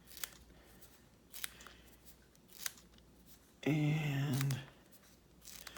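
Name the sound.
scissors cutting gray foam pieces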